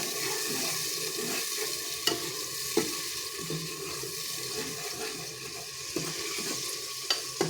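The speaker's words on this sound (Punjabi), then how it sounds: "ਇਧਰ ਆਪਣੇ ਪਿਆਜ਼ ਭੁੱਜ ਰਹੇ ਨੇ" Onions frying in a pan for an aloo matar curry, a steady close sizzle running throughout with occasional sharp clicks and scrapes from stirring.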